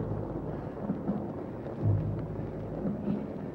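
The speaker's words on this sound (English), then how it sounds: "John Hart, would you like to see the lightning and hear the thunder?" Thunder in an audio drama rolls low and steady, with a soft rain-like hiss and a few swelling rumbles, and no voices.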